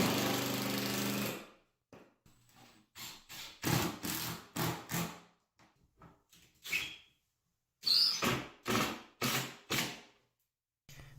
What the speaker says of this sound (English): later I came back with these 6-inch long timber screws and drove those in